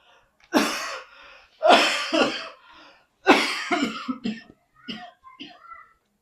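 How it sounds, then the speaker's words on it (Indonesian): A man coughs in a few harsh, close bursts, three heavy ones followed by several lighter hacks, with short pauses between them and no talking over them. "Nanti makin batuk loh."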